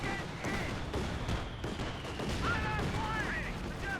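Battle din from Company of Heroes 2, a 4v4 match in Lienne Forest, with machine gun fire rattling amid dense gunfire and explosions; a steady, loud wall of combat noise runs throughout, with a few whistling tones near the end.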